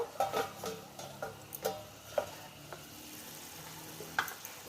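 Egg curry simmers in a covered pan, giving soft, faint bubbling pops and scattered ticking clicks at an irregular rhythm.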